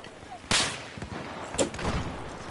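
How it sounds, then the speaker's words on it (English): A grenade goes off in the shooter game Battlefield 4 with a sharp, fairly close blast, followed by a second, softer bang and some rumbling, under quiet background noise. "That's a grenade!"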